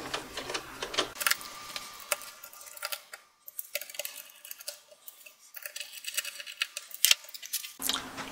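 A screwdriver backs four screws out of the palm rest area of a Lenovo ThinkPad X220T laptop, giving small ticking and clicking sounds in short bursts, close and fairly quiet.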